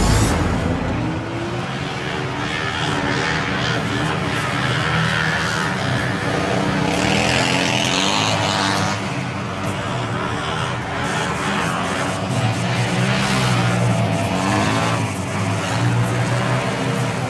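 ATV quad bikes ridden on a show track at the Inter Cars Motor Show 2012, continuous loud revving engine roar mixed with crowd noise and a public-address murmur throughout.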